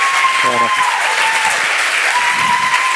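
Applause greets a guest at a university talk in Córdoba, steady clapping throughout, while a single voice briefly speaks over it near the start.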